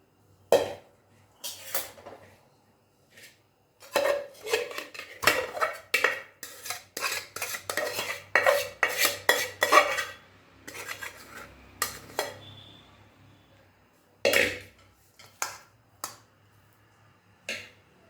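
Steamed rice flour dough being tipped into a metal basin and worked with an oiled brass pot, producing rapid bursts of sharp metallic clinks and scrapes, separated by quiet pauses.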